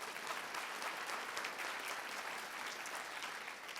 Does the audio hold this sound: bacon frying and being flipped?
no